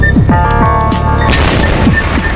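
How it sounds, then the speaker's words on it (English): Loud booms and cracking pops of truck tyres exploding in a tunnel fire echo over a constant roaring rumble, like explosions going off inside an enclosed space. "that's truck tyres exploding"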